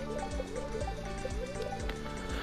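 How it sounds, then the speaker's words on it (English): Watering crops with a watering can in Stardew Valley: a soft liquid pouring and splashing sound over steady game music, with brief droplet-like blips recurring several times. "now let's water our crops"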